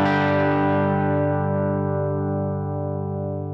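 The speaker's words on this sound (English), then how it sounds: "here is a deluxe reverb with the vibrato channel" A sustained electric guitar chord through a Fractal AX8 Deluxe Reverb amp model on the vibrato channel rings out clean with warm amp tone and a gentle wobble, decaying slowly over a few seconds with no talking.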